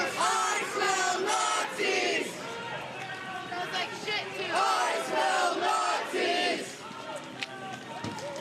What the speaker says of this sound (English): the crowd is chanting at these agents